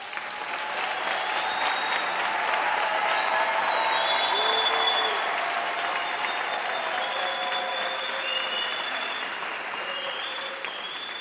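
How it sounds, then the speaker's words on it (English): A large audience at a university graduation ceremony breaks into sustained applause for the graduates, a dense, even wash of clapping that stays strong for the whole stretch, with a few faint voices above it. "I think it is quite fitting that we give the graduates another round of applause."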